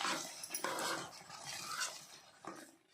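Boiled peas being stirred into a paneer cashew curry: soft scraping and clinking of a spoon in the pot with light bubbling sizzle, a few quiet knocks, fairly faint and without speech.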